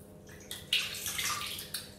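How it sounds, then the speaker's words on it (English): Water in a bathtub is stirred and sloshed by a hand, giving soft splashes and swishes that rise after a quiet start, with a few sharper splash bursts near and alone. "you could move it around in the water while you feel the water"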